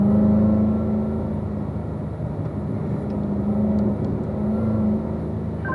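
Race car engine pulling hard out of a corner on a track and shifting up to third gear, a loud steady close drone that stays strong and even throughout.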